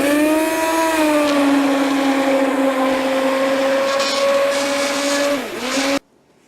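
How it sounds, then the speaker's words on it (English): An immersion blender purees strawberries for preserves, its motor holding a steady, loud whine for about six seconds. The pitch dips briefly near the end, then the motor cuts off abruptly. "This is an immersion blender. We're going to use it to puree our strawberries."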